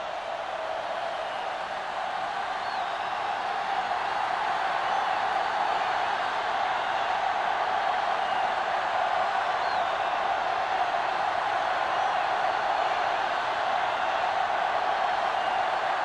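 Steady, distant roar of a stadium crowd at an American football game, a continuous broad wash of noise with no distinct cheers standing out.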